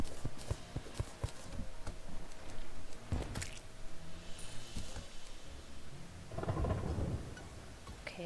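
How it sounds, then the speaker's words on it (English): Thunderstorm ambience in the game Terraria: rumbling thunder rolls through the middle and again near the end over a steady bed of rain, with scattered sharp crackles, fairly loud and continuous, no voices. "now I've got a thunderstorm"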